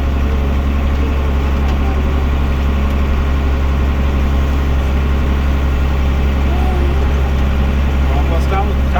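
A John Deere 7400 tractor engine runs steadily while baling hay, a loud constant low rumble close by that never lets up, with people talking over it.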